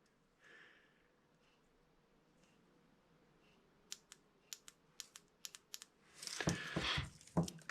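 Aprilia RSV Mille fuel injectors click in a series of sharp, rapid mechanical clicks after soaking in injector cleaner, sparse at first then bunching into a denser, louder clatter, with a faint hiss underneath.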